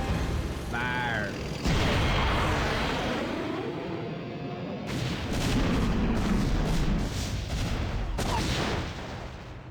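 Heavy weapons fire and explosions from the Protoss campaign of StarCraft (1998), a loud, continuous wash of booms and crackling shots with a few sharper blasts and a brief squealing tone early on.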